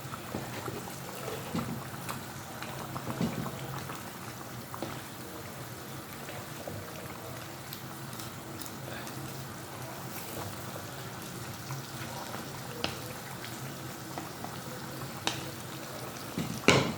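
Fish curry with tomatoes bubbles and simmers in a pot, a soft continuous hiss with scattered pops and occasional clinks, fairly quiet and steady throughout.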